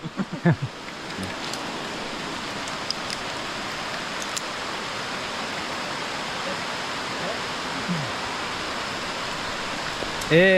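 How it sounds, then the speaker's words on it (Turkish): Heavy rain pouring steadily during a tour in Vang Vieng, Laos, a dense continuous hiss close by, with brief voices and clatter at the start and a few faint sounds over the downpour. "Evet, yağmur başladı ama durmak yok."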